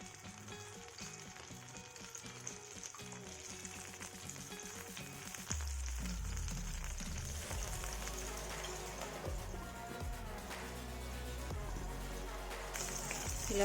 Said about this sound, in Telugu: కట్ చేసుకున్న వంకాయ ఇందులో వేసుకొని ఫ్రై చేసుకోవాలండి.